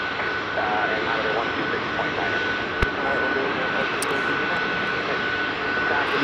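United Airlines airliner departing Chicago O'Hare, a loud sustained jet engine roar with a steady whine, heard over continuous background chatter and radio voices.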